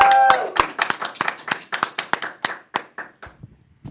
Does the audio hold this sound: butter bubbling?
no